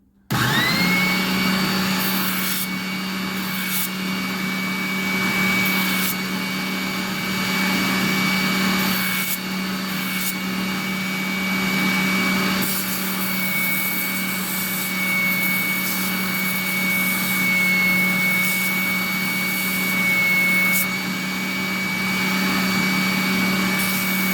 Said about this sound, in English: I'll use my spindle sander to clean up the marks left by the belt sander on this side